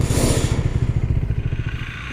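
A Husqvarna Svartpilen 401 motorcycle with a 390 cc single-cylinder engine runs close by, a loud, steady low thumping putter with a brief rougher burst at the start.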